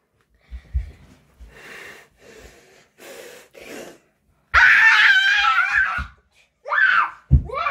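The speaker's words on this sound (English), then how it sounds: "Don't scream again, please." A child gives a loud, shrill scream lasting over a second, preceded by a string of breathy snorts and gasps, and followed by a shorter cry and a sharp breath.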